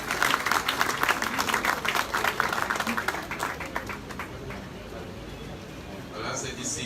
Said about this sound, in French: je demande à l'assistance d'applaudir l'ensemble du cabinet ministériel